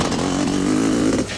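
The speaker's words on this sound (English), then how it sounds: "Patrick Andrews was now second, but leading the 500 class on the KTM, with Kevin Tebbett still third." Racing motorcycles, a Kawasaki and a KTM, at a 1991 Sun City race, one engine holding a loud, steady high-pitched drone that climbs slightly before cutting off near the end, close and with no talking.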